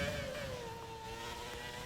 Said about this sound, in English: I'm just going to let you guys listen because this car sounds amazing